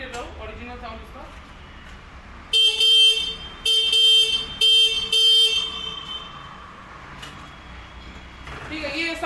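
Original horn of a Kinetic Honda DX scooter sounding in several loud, bright honks of varying length, separated by short pauses, with someone talking quietly before and after.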